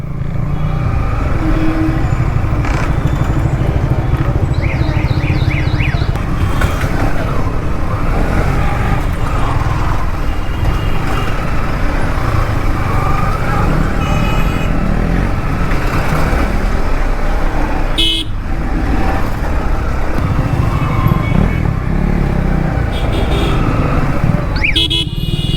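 Motorcycles ride as a group, including two KTM Duke 390s and Yamaha R15 version 2 and version 3 bikes, with loud continuous engine drone and wind rush, passing traffic, and a few horn toots.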